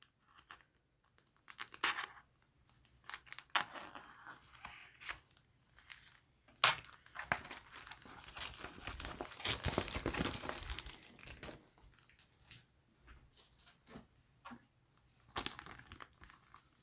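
Photo-etch metal grills being carefully peeled and cut from a decal sheet for a Bandai Perfect Grade Millennium Falcon model kit, giving close, quiet crinkling and scratchy clicks that swell into a longer rustling stretch midway, with no talk.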